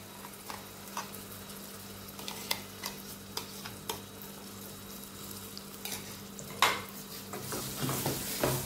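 A spoon scrapes and stirs ground masala paste frying in a pan, giving soft sizzling under irregular clinks and scrapes that grow busier toward the end, with no talking.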